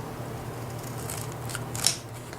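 Scissors make a single soft snip through a sheet of 3D craft tape, close to the microphone, over a steady low room hum.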